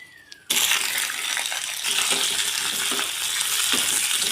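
Cut pieces of ripe red chili dropped into oil in a kadai, bursting into a sudden loud continuous sizzle with light crackles and stirring scrapes, no speech.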